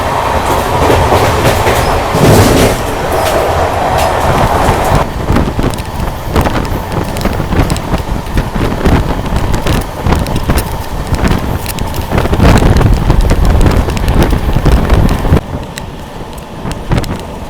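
Lucknow Mail Express passenger train cruising at about 110 km/h at night, with a steady loud rumble, rhythmic clickety-clack of wheels over rail joints and rushing wind throughout.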